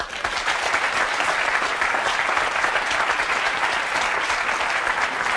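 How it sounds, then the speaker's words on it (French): A television studio audience applauds a guest, a dense, steady wash of clapping that holds at full strength for several seconds with no talk. "Je vous demande de l'applaudir"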